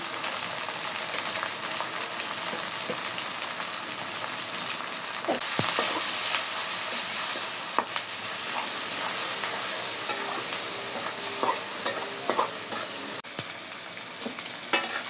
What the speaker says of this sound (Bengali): আমার চিংড়ি মাছটা মোটামুটি ভাজি ভাজি করে নিছি